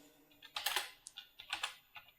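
Quick keystrokes on a computer keyboard come in short uneven bursts of clicks, close and fairly soft, with no talking.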